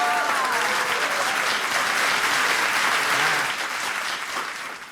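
An audience claps loudly and steadily, and the applause gradually fades toward the end.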